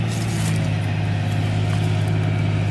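Farm tractor engine running steadily under load while pulling a stuck dump truck in an agricultural field in El Salvador, a constant close low drone with no talk.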